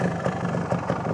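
A 1975 Yamaha DT250 motorcycle engine idles with a steady, fairly quiet low thrum, a soft pulsing rhythm running evenly throughout with no voices over it.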